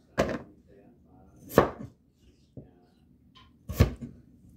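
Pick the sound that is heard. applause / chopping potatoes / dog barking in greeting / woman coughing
chopping potatoes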